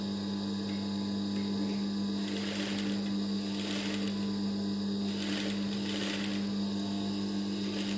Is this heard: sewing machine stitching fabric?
yes